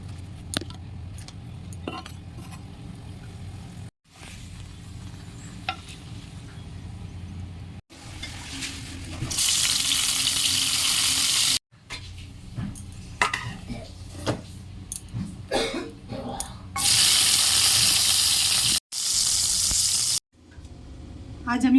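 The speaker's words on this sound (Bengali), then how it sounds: "এবার আমি সিম, করলা আর পাঁপড় ভাজবো।" Flat beans, bitter gourd and papad fry in hot oil, with bursts of loud sizzling broken by short silent cuts and quieter stretches of stirring and clinks between them.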